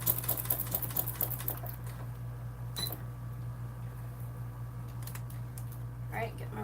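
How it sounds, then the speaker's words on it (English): A sewing machine runs steadily at a 4 stitch length, top stitching 1/8 inch from the seam on a Swoon Maisie bag, a constant motor hum with a few faint clicks, close by. "now we're going to do the top stitching, which I'm going to do at a 4 stitch length"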